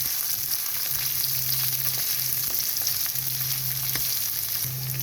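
Chopped onion added to ginger frying in oil in a pan, a loud continuous sizzle with scraping stirring strokes throughout and no voices.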